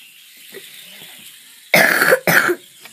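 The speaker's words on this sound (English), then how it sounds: "So far I'm coughing a bit." Two loud, harsh coughs close to the mic, back to back after a quiet stretch with faint background noise.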